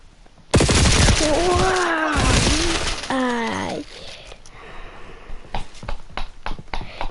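Heavy gunfire and shelling in Call of Duty in loud crackling bursts, with raised voices calling out over the barrage, then scattered sharp shots as it thins.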